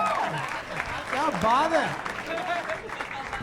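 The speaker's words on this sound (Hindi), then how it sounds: "जोरदार तालियां फोड़े यार।" Audience applause on a TV talent show, India's Got Latent, sounds as a dense clapping wash beneath someone speaking, with other voices talking over it.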